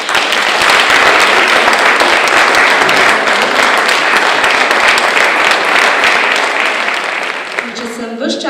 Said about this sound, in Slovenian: jim lahko še enkrat močno zaploskamo